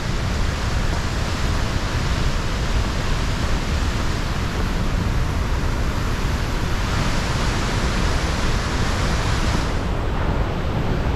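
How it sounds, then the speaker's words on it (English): Steady roar of a waterfall on the Dosewallips River, loud and continuous broadband rushing water close by with no let-up, alone without voices. "That'll do for one heck of a waterfall,"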